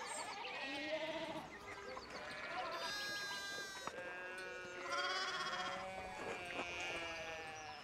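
Sheep bleat in overlapping, wavering calls from a farm-animal flock on a town common in the game Pentiment, with game music and ambience running steadily underneath and no speech.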